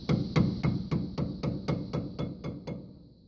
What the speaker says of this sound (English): Start it in with the hammer.